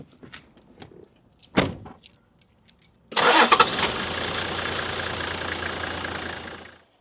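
After a few small clicks and knocks, the 1HZ diesel in a Toyota 80 Series cranks briefly and fires, settling into a steady, close idle that lasts several seconds before the sound fades out.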